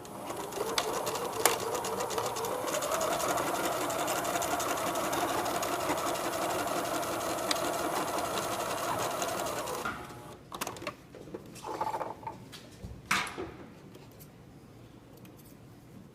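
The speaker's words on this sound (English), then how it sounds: "with just your normal stitch, you are going to sew down just the very edge of it" A sewing machine runs in one steady, continuous stretch while edge-stitching fabric for bloomers, then stops, followed by scattered handling clicks and rustles.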